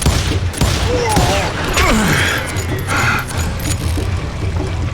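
Rapid gunfire from the Western shooter game Call of Juarez: Gunslinger, a loud burst of several shots with ricochet-like whines, under constant game background noise and a voice.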